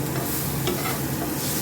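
Chopped onion, ginger and garlic fry in hot oil in a pan for potoler dorma, a steady close crackling sizzle mixed with stirring scrapes and no voices.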